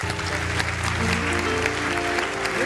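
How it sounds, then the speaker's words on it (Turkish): Studio audience applauding on a Turkish TV show, a steady, dense wash of clapping throughout with music tones running underneath. "Alkışlar gelsin kardeşimize."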